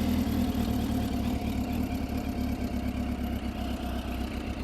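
A 2006 Suzuki GSX600F Katana motorcycle engine running cold at idle, a steady low, even rumble heard up close and alone throughout.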